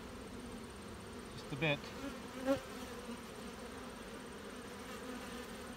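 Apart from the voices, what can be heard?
honeybees in a hive during inspection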